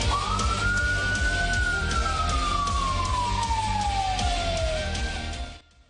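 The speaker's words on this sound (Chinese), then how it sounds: "警灯闪烁，警笛鸣响。" A police car siren wails in a long, loud sweep that rises and then slowly glides down, with steady road noise beneath, before cutting off near the end.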